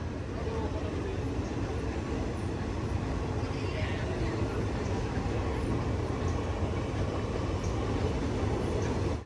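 The Thiruvananthapuram–Mangaluru Express rolls past on the line in Kerala, a steady, dense rumble and clatter of wheels and carriages lasting several seconds at moderate distance, with no clear voices over it.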